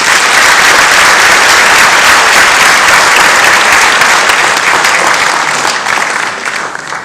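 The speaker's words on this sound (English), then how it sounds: "Let's give him a round of applause." Loud, sustained crowd applause at the 2016 New Hampshire Democratic Convention during an awards presentation, a thick roar of many hands clapping that holds steady and then begins to thin and fade at the end.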